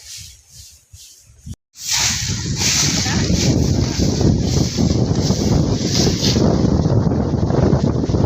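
Loud wind roars and buffets the microphone continuously after a brief quieter opening, a dense steady rush with no break.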